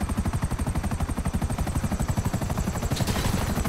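A helicopter in the video game GTA V churns with loud, rapid rotor chopping that beats in a steady rhythm throughout, close and unbroken, with no talk.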